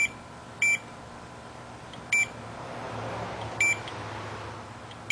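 A Fluke multimeter set to ohms gives short continuity beeps on a short while testing an E39 auxiliary fan resistor, three brief electronic beeps spaced over a second apart against a quiet background hum.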